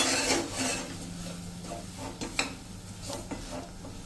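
A ragi flour mixture with added milk is stirred into a dough in a bowl, producing soft rubbing, scraping and sticky stirring noises with a few light knocks, close and fairly quiet, over a low background hum.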